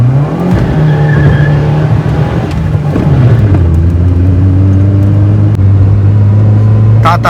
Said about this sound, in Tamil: it's just a wheel spin